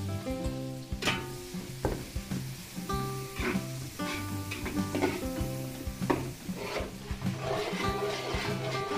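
Onions fry in a pan for a barrio fiesta in the Philippines, giving a steady, loud, close sizzle with scattered pops and scrapes of stirring, mixed with tonal background sounds.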